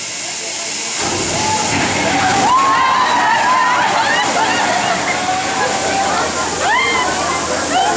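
Water rushes and splashes loudly in a continuous hissing torrent from a staged physical water effect, with some squealing and voices mixed into the noise.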